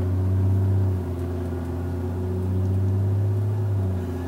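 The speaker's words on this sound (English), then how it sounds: "Listen to that engine." A 2000 American Heritage 45IS motorcoach engine drones loudly and low, heard from the cab with a window open, its deep hum dipping and swelling slightly in pitch as it runs on.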